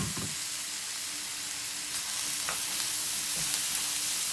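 Masala being mixed and sautéed in a hot pan, a soft even sizzle running throughout with a few light spatula scrapes on top, fairly close and with no one speaking.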